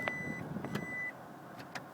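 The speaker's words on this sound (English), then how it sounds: "When you put in reverse, it does this annoying beeping sound to let you know that you're in reverse" A Toyota Prius in reverse gear gives a warning beep, one short electronic tone held for about a second at low level, with faint clicks and light vehicle noise around it.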